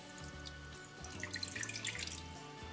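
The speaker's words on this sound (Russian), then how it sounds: "Мне нужно включить плиту и налить воды." Water is poured from a tap into the bottom of a small cooking pot, a continuous thin trickle with light splashing, close and steady, over a low rhythmic hum.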